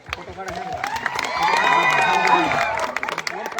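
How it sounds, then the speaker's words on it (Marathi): An audience bursts into applause and cheering, building quickly to a dense, loud wash of clapping and shouts before tapering slightly; a voice is heard briefly at the start. "तर त्यासाठी एकदा खरंच टाळ्या होऊन जाऊ दे"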